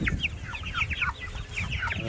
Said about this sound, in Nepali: यिनीहरू चाहिँ अहिले गिरिराजका चल्लाहरू हुन्।